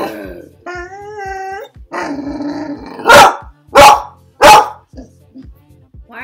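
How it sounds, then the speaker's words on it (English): A dog growls and barks, starting with low growls and whining howl-like tones, then three loud, sharp barks in a steady rhythm, followed by softer grumbling, close to the microphone. "Why are you barking?"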